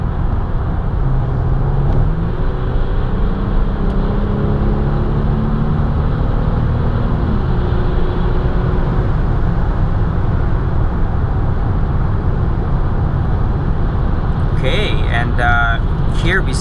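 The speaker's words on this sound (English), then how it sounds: "That's a busy highway." Dense highway traffic on a busy multi-lane freeway interchange, a steady loud roar of passing vehicles filling the whole stretch, with brief voices near the end.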